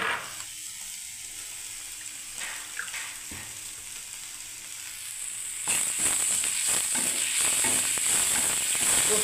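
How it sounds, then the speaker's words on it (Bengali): Poppy seed paste fries in a pan while being stirred, a soft sizzle that grows louder and brighter partway through, with scraping stirs and no talk. "এবার আমি বন্ধুরা এই পোস্তটা দিয়ে আরেকবার আমি নাড়বো"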